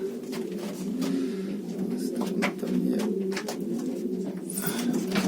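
Pigeons coo during mating, a steady low rolling cooing that repeats throughout, close and clear, with a brief spoken remark partway through.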